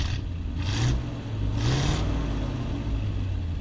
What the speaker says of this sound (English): It's got a small block Chevrolet 350 in it with a 4-speed transmission.